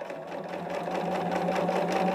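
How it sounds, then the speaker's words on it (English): A home sewing machine runs its quilting stitch in a steady, fast mechanical whir with a constant hum, close and continuous with no talking. "I wanted to do a small project so I could learn the quilt function on my machine."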